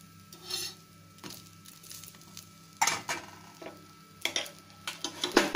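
Large brinjal (eggplant) slices frying in a pan as they are flipped over, with soft sizzling under intermittent scraping and clinking of a spatula against the pan, loud bursts near the end.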